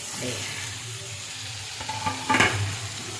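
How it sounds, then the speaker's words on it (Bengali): Chopped tomatoes and slit green chillies hit hot oil in a frying pan, a steady sizzle swelling into a louder crackle as they are stirred, with a few utensil scrapes near the end. "এই পর্যায়ে এতে 4টে কাঁচা লঙ্কা, চিড়ে রাখা কাঁচা লঙ্কাগুলো আমি দিয়ে দিলাম, আর কাটা টমেটোগুলো আমি এর মধ্যে দিয়ে দিচ্ছি"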